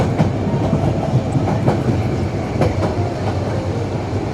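A train bound for Mawlamyine rolls along the rails, a continuous rumble with repeated clickety-clack wheel beats at irregular intervals, heard from inside and moderately loud.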